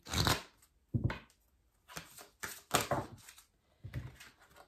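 Healing oracle cards being shuffled and drawn make a series of close, papery riffles and slaps in irregular bursts, with quiet gaps between them.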